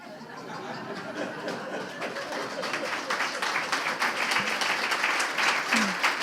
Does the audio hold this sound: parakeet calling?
no